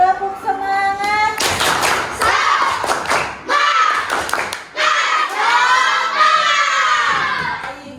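Indonesian schoolchildren in a classroom do a rhythmic spirit clap, with loud group claps and thumps in patterned bursts mixed with their shouting and chanting voices, close and energetic.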